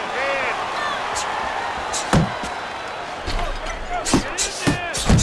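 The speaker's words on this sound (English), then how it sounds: "Very accurate two-punch combo by Mike Tyson." Punches landing in the boxing video game Fight Night Champion, Mike Tyson versus James Toney: several sharp thuds and slaps scattered over steady crowd noise, with a commentator talking throughout.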